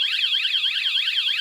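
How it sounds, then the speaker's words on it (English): A vehicle security alarm on an expedition camper gives its brief warning when the vehicle is touched, a loud, close warbling electronic tone that sweeps up and down in quick, steady cycles. "if I touch the vehicle now, it's gonna give me a, oh, back off, 2-second warning"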